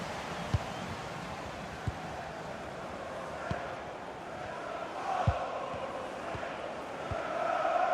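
A stadium crowd in the Chelsea FC 26 football video game keeps up a steady roar of noise, with faint thuds scattered through it and a slight swell toward the end.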